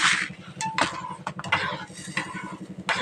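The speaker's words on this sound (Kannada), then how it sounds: "ಇದನ್ನು ಈ ಥರ ಬಿಸಿನೀರಿಗೆ ಹಾಕಿ ತಿರ್ಸ್ಕೊತಾ ಇರಬೇಕು" A spoon stirs a homemade natural hair pack in a small bowl set in hot water, giving repeated soft metallic clinks and scraping taps in a steady rhythm, close and fairly clear, with no talk.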